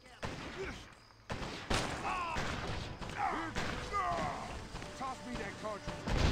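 Bomb blasts and gunfire in a Tamil-language shooter video game, with repeated booming impacts and bursts of shots over continuous battle noise, while a voice talks over the action.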